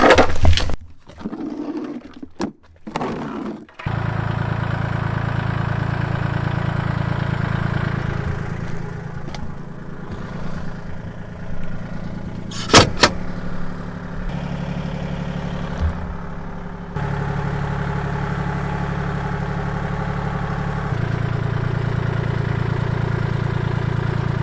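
A tractor engine runs while nudging a 1994 Ford F150 OBS pickup, a steady mid-pitched rumble close by with a few sharp knocks early on and small surges in the drone throughout.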